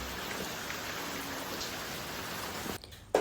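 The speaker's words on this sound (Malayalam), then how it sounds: "രാവിലെ തന്നെ എണീറ്റപ്പോൾ നല്ല മഴയാണ്" Heavy morning rain pours in a steady, dense hiss with pattering drops on surfaces, unbroken until it cuts off abruptly just before the end.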